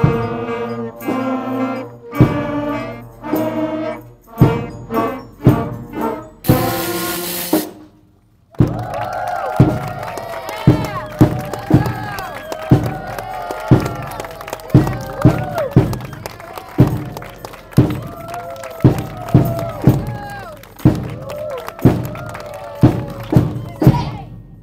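Audience at a school spring band concert cheering and clapping during a baseball-themed skit, with rhythmic thumps and bursts of crowd noise, an amplified voice talking over it, and a sharp burst of noise before the main section.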